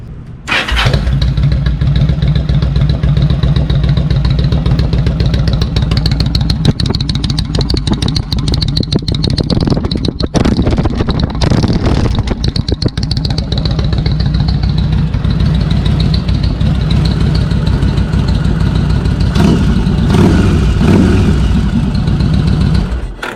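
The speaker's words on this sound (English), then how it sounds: "Let's hear it start up." A Harley-Davidson-style motorcycle cranks briefly and fires up near the start, then idles steadily and loudly up close with a deep, even engine rumble that continues to the end, with no talking over it.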